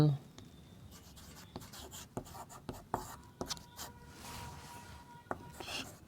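Chalk or a marker writes on a board during a Class 10 triangle geometry lesson, making sharp scratchy strokes and taps in irregular bursts with soft talk in between.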